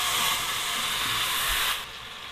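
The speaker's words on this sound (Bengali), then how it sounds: "এখন আমি এখানে দিয়ে দিচ্ছি 1/2 কাপ মতো নারকেলের দুধ।" Coconut milk is poured into a pan of frying spice paste of cumin and coriander powder for a prawn biryani. A loud, steady, close sizzling hiss runs throughout and drops in level near the end.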